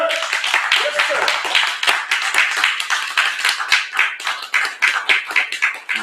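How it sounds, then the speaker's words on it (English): Audience applause at a Black Holocaust Remembrance Day 2023 commemoration, a dense, steady patter of many hands clapping for several seconds, with cheering and voices mixed in. "Give him a round of applause."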